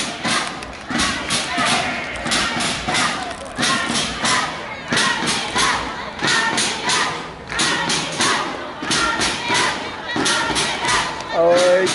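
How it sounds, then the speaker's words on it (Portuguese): Fans at a Brazilian softball championship game shout and chant in loud, rhythmic bursts, with thumping and voices rising and falling in waves throughout. "Em cima, ó, a torcida aqui, ó."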